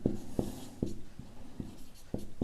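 Chalk or marker tapping and scraping on a classroom board during a maths lesson, a series of sharp, evenly spaced strokes up close with no talk.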